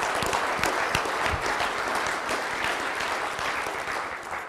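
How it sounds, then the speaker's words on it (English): An audience at a swine research presentation claps steadily, a dense, loud round of applause that holds evenly for several seconds with no talking over it. "Let's give those gentlemen a round of applause."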